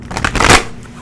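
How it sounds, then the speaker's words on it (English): Tarot cards are riffled in one quick, close shuffle, a crisp papery burst that peaks and then trails off within about a second. "Smooth shuffle, so let's pull it."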